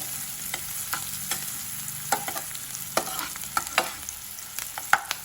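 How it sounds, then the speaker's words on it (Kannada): Onion and green chilli fry in a pan with a continuous sizzle, broken by frequent scraping and clinking strokes as the mixture is stirred, close and without talk. "ಈಗ ಇದನ್ನು ಸ್ವಲ್ಪ ಈರುಳ್ಳಿ ಹಸಿ ವಾಸನೆ ಹೋಗೋ ತನಕ ಫ್ರೈ ಮಾಡ್ಕೊಳ್ಬೇಕು"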